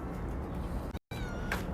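A cat meows close up, with a brief drawn-out call before a short silent gap and another meow after, heard alone without talk.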